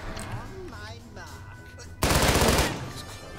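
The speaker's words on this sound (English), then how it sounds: "And that's a machine gunner." Loud burst of machine gun fire from a machine gunner enemy in the turn-based tactics game Achtung! Cthulhu Tactics, a dense rattling volley of about a second and a half that follows quieter game sounds and someone talking.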